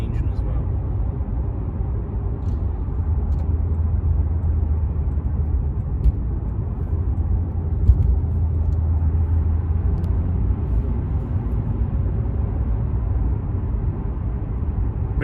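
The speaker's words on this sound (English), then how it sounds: "So it has a nice sound to the engine as well." A 2006 Lexus IS 350 on the move gives a steady, low engine drone heard from inside the cabin, mixed with road rumble and holding an even level throughout, with a few small clicks.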